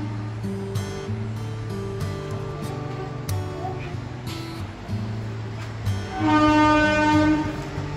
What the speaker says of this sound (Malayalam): ഇടയ്ക്കിടയ്ക്ക് കേൾക്കുന്ന ഈ ശബ്ദം ട്രെയിനിന്റെ ആണ് കാരണം റെയിൽവേ ലൈൻ തൊട്ടടുത്താണ്